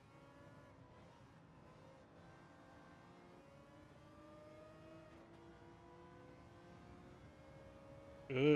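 A race car engine in Gran Turismo 7 hums faintly and steadily, rising gradually in pitch through the gears, with a sharp burst of noise at the very end.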